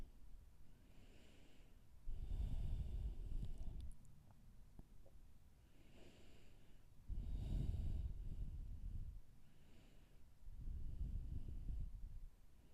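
Slow, deep breaths during yoga practice, three long audible inhale-exhale waves, soft and close with breathy, slightly nasal airflow and quiet pauses between, no talk.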